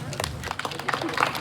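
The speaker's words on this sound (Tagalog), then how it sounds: "Big round of applause, everyone." An audience at a Batad community youth event clapping, a burst of scattered hand claps under a voice speaking over a microphone, moderately loud and uneven in rhythm.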